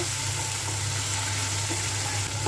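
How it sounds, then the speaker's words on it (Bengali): Garlic, onion and cumin paste frying in oil, a steady, continuous sizzle with a constant low hum underneath, even in loudness throughout. "এক চামচ পরিমাণ রসুন পেঁয়াজ আর জিরা আমি বেটে নিয়েছি এটা দিয়ে দিলাম এটা কিছুক্ষণ ভাজবো তেলের সাথে"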